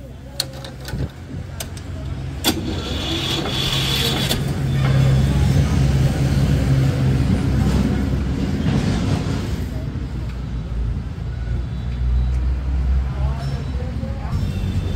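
Second-hand 2012 tractor with a self-start engine, heard at a tractor market: a low diesel rumble that builds and holds steady for many seconds, close and loud, with a few clanks and people talking over it.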